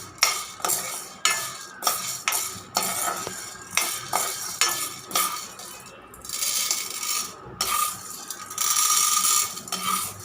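Dry crackling and scraping as urad dal roasts in a pan, with repeated stirring strokes and light metallic clinks, close and steady, no voices.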